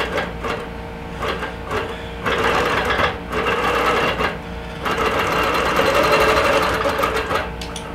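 A sewing machine runs a heavier basting stitch through a quilt with soluble thread, its steady rapid mechanical whir loud and close, pausing and restarting in bursts with no voices.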